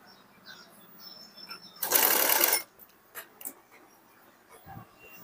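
A sewing machine runs in one short, loud burst of stitching, sewing piping onto a round neckline, with quiet handling sounds before and after.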